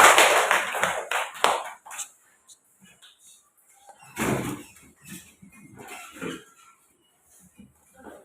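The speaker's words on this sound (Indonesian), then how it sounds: "tepuk tangan semua" A classroom of students claps together in a short, dense burst of applause that fades within a couple of seconds. A quieter scattered burst follows, with voices talking in between.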